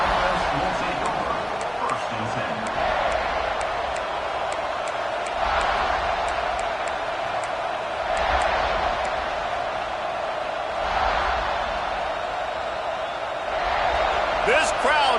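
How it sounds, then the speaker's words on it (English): Large stadium crowd at a college football game between South Carolina and Auburn, a constant roar that swells in several surges, with a commentator talking over it. "This crowd trying to show them what it's going to be like all day in this house."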